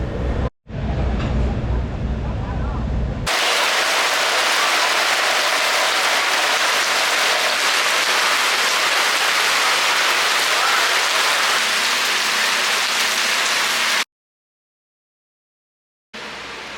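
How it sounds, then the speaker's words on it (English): Steady rain falls at Bristol race track in a dense, hissing wash that continues for many seconds, preceded by a brief burst of louder noise. "And it is officially raining."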